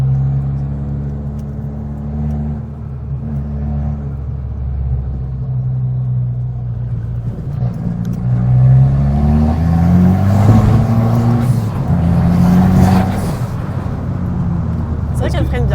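An Abarth 595 engine climbs high into the revs while driving, a steady rumbling drone that swells louder and rasps harder toward the middle, with people talking over it inside the car.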